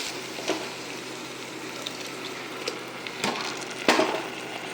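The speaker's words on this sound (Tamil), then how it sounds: "தண்ணி சேர்த்துக்கலாம் குழம்புக்கு தேவையான தண்ணி சேர்த்துடலாம்" Water added to an okra tamarind curry in a pan, a soft wash of liquid with a few small clicks and splashes near the end, close and fairly quiet, with no voices.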